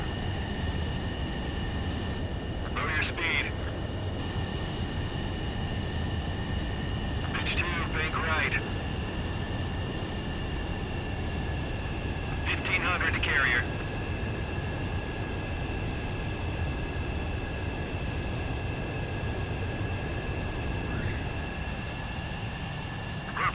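Jet aircraft approaching an aircraft carrier in the video game Ace Combat 7, a steady loud engine roar with high whining tones held throughout, while radio voices speak briefly over it several times.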